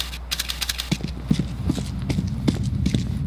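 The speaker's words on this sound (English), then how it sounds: "I think I hear your footsteps." Quick footsteps in a Counter-Strike: Global Offensive deathmatch, a fast uneven run of sharp taps over a low steady hum, with a faint voice underneath.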